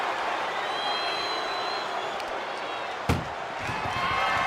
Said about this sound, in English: Look at the struggle just to shut that first door.